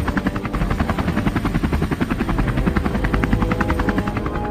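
A helicopter in the video game Call of Duty Mobile thumps steadily and loudly, its rapid rotor chop continuing without pause over a low engine whine.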